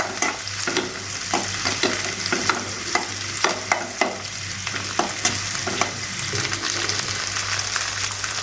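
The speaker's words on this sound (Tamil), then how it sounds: "வெங்காயம் நல்லா வதங்கட்டும்." Onions sauté in a pan for mutton kuzhambu with a continuous close sizzle and a regular rhythm of spatula scrapes and taps stirring through the pieces.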